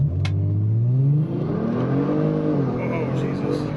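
A Kia Stinger GT's turbo engine revs up hard and loud, pitch climbing steadily as it accelerates, with a brief drop before rising again, heard from inside the car.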